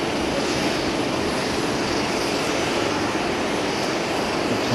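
Airbus A350-900 airliners at Haneda Airport, a steady broad engine roar holding constant and fairly loud throughout, with no voices over it.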